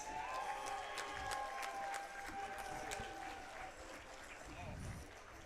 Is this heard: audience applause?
yes